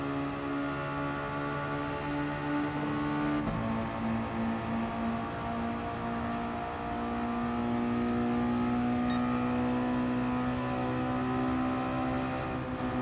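A Mazda Roadster touring car races around Mount Panorama in GT Sport, its engine holding a steady, loud drone with pitch shifts as it changes gear, continuous throughout with no talking.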